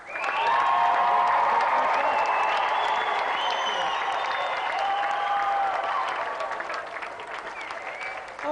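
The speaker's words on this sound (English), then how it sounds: "let's have another big round of applause for today's guests." Studio audience at a TV game show gives a sustained round of applause and cheers for the guests, dense loud clapping that gradually tapers toward the end.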